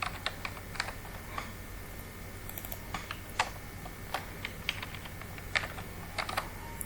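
Typing on a computer keyboard while entering data into an Excel spreadsheet: irregular, fairly close key clicks in uneven bursts over a steady low hum, with no talking.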